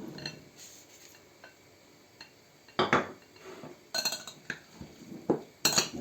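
Dried beans tipped into a pan of golden sautéed onion, then stirred: sharp clinks and scrapes of a utensil against the pan in bursts, loudest near the middle and end, over a quiet kitchen background.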